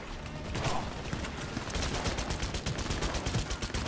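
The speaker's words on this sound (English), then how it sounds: "I don't know what I'm shooting, but I'm gonna keep shooting." Rapid automatic gunfire from a weapon in the video game Cyberpunk 2077, starting after a moment of mechanical clatter and then running as a dense, steady stream of close, sharp shots.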